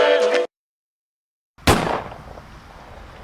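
A single loud, close gunshot sounds in a film scene as a man shoots himself. A brief sound cuts off into dead silence, then the sharp crack is followed by a decaying echo.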